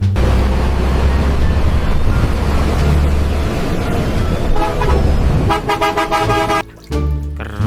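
A toy telolet bus sounds over a steady motorized drone, its horn breaking into a rapid series of bright tooting notes near the end, close and loud.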